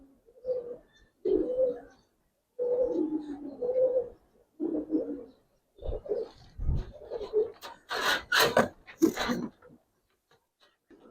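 Old-strain Giribaz pigeons in an Old Dhaka loft give repeated soft, throaty coos in short bursts separated by brief pauses, close by, with some scratchy rustling near the end.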